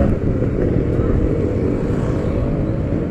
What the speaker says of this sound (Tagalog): Oy, may tricycle.